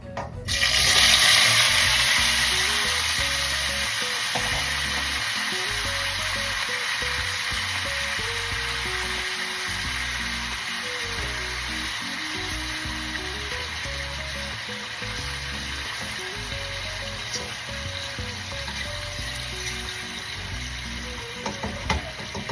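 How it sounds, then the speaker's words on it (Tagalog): Pork marinated for eight hours for adobo fries in a pan, giving a steady, close sizzle that runs without a break, with faint clicks and stirring-like ticks under it. "So, hayaan lang po natin siyang ma-fry."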